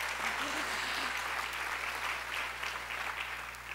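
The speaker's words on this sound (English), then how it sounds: "Now that should get an applause" Applause from the audience at a Latino leadership event, a broad continuous round of clapping in a large hall that fades slightly toward the end, with a low steady hum underneath.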